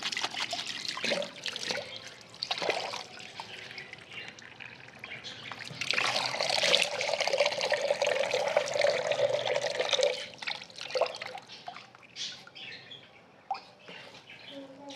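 Running water trickling and splashing close by as a face is washed for wudu in a washroom, a steady broadband flow that swells louder in the middle, with no talk over it.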